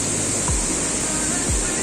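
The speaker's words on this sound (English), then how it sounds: "This is my favorite waterfall up to date." Phe Phe waterfall in Meghalaya, a steady, loud broadband rush of falling water filling the whole short clip without pause.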